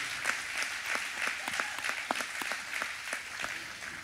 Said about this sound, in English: Can we give all our esteemed guests one more big hand clap, online campus?